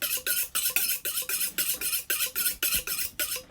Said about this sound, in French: On va émincer les oignons.